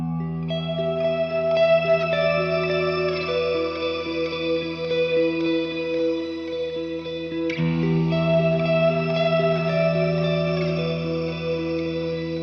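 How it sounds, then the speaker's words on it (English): A sustained chord washed in stacked choir and shimmer reverb effects, its layered tones ringing with an orchestral, lush tail; the texture shifts to a new chord partway through and swells continuously at steady loudness with no voices. "if I add like a choir type with a shimmer type, it's going to sound like orchestral"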